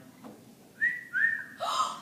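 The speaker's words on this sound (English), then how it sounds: "you can't be whistling at no white lady like that" A two-note wolf whistle, rising then falling, sounds close and clear, followed by a breathy whistled tail.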